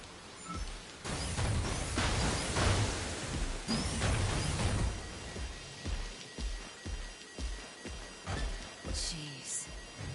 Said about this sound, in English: The rain's starting to subside.